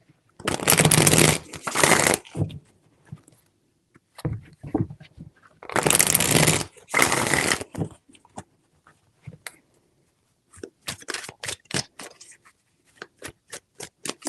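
Tarot cards shuffled by hand in three long, dense riffling bursts, close and fairly loud, followed by a run of quick, sharp card taps and flicks.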